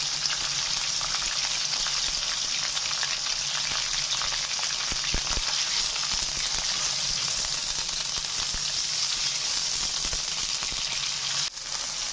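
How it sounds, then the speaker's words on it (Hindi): Chicken pieces fry in hot oil until they turn white, giving a loud, continuous sizzle with occasional stirring and scraping in the pan. "फ्राई करेंगे जब तक ये बिल्कुल सफेद ना हो जाए।"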